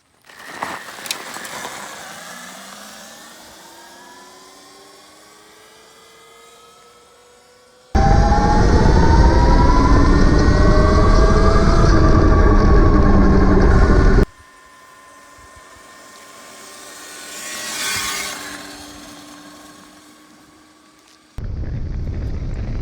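A Sur-Ron electric bike launches from a standstill on a road, its motor whine rising in pitch under heavy wind rush, with a quieter coasting stretch between two loud bursts of acceleration.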